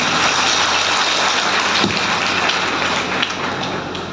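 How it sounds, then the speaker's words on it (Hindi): Loud, sustained applause from a large audience at a training seminar, a dense steady patter of clapping filling the space and tapering slightly toward the end. "जोरदार तालियां बजाइए।"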